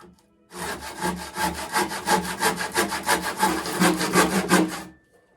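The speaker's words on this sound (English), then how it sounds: "You can see I'm cutting into the wood block some, so I'm not perfectly perpendicular." A Stanley pull saw cuts into a wood block with hand tools while a Greenland paddle is being made, giving a steady run of about twenty rhythmic rasping strokes, close and loud, with no talking.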